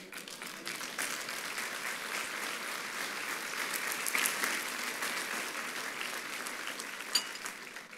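A church congregation applauds during a sermon by Pastor Fernando Chaparro, producing a sustained, even patter of clapping at moderate volume that continues for the full stretch with one sharper clap near the end.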